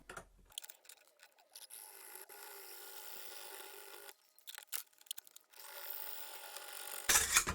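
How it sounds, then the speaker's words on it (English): A small hand saw cuts plastic bits off a Skoda Fabia Mk1 numberplate light surround, giving close, rasping strokes in two main stretches with a brief scraping pause between. "Just saw these bits off."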